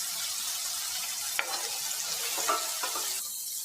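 Fennel seeds, ginger and garlic fry together as a masala, giving a close, bright hiss with a few scraping stirs and light clicks scattered through.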